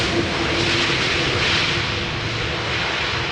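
A fixed-wing airliner lands at Schiphol Airport, its engine roar loud, close and continuous for a few seconds without pause.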